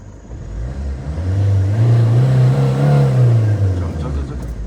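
A car engine hums and revs through a slow reverse maneuver, a low steady drone swelling in the middle and easing off, close by, with voices talking over it.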